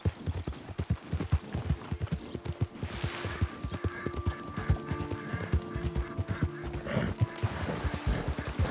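Horse hooves clip-clop in a quick steady rhythm in the video game Red Dead Redemption 2, close and continuous, with a faint whinny and soft ambient game sounds underneath.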